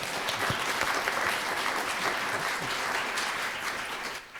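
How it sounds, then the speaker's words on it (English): Steady applause from an audience greeting a speaker fills the room, a dense wash of clapping that holds evenly throughout and tapers slightly at the end. "So let's give Frank a round of applause."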